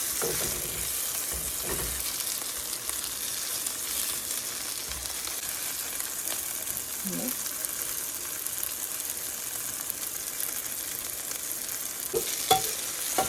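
Brinjal pieces fry in hot oil for an instant pickle, giving a steady, close sizzle with soft stirring scrapes that continue without a break throughout.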